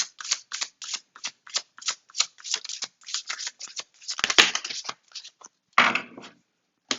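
Tarot cards shuffled by hand in quick, rhythmic riffling bursts, close and crisp, ending in a denser flurry and a final longer slide of cards, with no talking.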